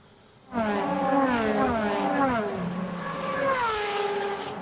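DTM race cars at the Norisring street circuit in 2010 roar past after a brief quiet start, engines climbing and shifting through gears, loud and close, with overlapping cars sustaining the whine.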